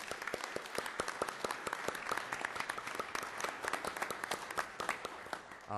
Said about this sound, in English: So I want to give a round of applause to our City Council members.